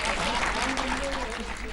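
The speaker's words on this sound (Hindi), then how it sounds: "ताली बजाए तो मस्ती से बजाए।" Audience clapping during a Hindi poetry recital, a moderate wash of applause with a voice talking over it throughout.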